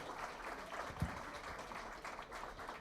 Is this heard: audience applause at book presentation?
yes